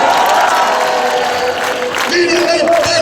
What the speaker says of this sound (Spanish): Por favor, un fuerte aplauso para Pep Cadoller.